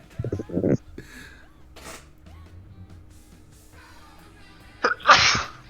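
Two loud, close sneezes, one at the start and one near the end, with quiet background noise and faint movement between them.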